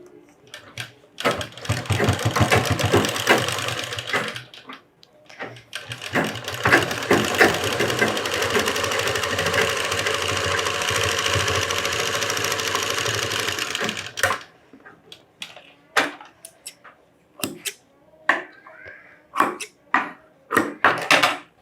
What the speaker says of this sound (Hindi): इसको हम बटन पट्टी के लिए ऐसा एक फोल्ड करके सिलाई मारते हैं